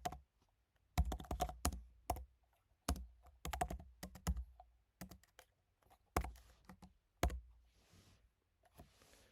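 Code is typed on a computer keyboard in close, quiet bursts of crisp clicking keystrokes, each burst separated by short silent pauses.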